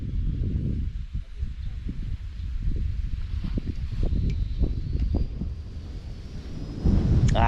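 Gusty wind buffeting the microphone while carp fishing, with low rumbling bursts and rustling, fairly loud and continuous, with a brief sharper noise near the end.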